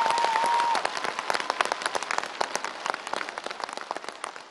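A studio audience at a Vietnamese televised singing contest final gives sustained, thick applause, with many hands clapping at once like heavy rain. A brief steady tone sounds at the very start.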